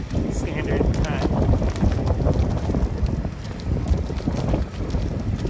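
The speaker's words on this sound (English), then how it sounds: "The wind is kicking up, as you can see from the flags down at the other end of the track." Wind gusts across a drag racing strip, producing a loud, continuous rushing and buffeting against the microphone with no clear breaks.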